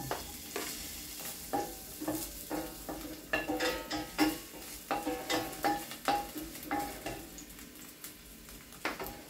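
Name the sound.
garlic frying in hot cooking oil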